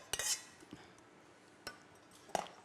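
A spoon stirs blanquette de veau in a pot, with a few sharp clinks and scrapes of metal on the pot spread over quiet pauses, close and fairly soft.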